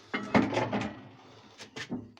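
A metal door on a Maxiterm Shakhtny Lux solid fuel boiler is worked with a few close clunks and scrapes, louder at the start and then a couple of lighter knocks, with no talk.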